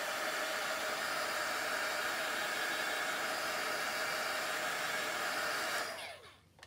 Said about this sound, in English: And then I'm going to heat it with my heat tool again real quick.